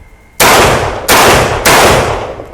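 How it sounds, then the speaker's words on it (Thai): Three loud shotgun blasts from a Saiga 12-C fired at a range test, each a sharp crack with a decaying tail, spaced about 0.6 seconds apart. "ทดสอบปืนไซก้านะครับสามนัด ผู้ยิงพร้อม พร้อมแล้วเริ่มยิง"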